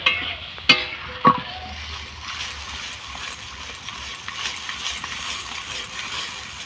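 A spoon stirs a spice masala frying in a pan after a splash of water, with a few sharp clanks against the pan early on, then softer scraping over a low sizzle.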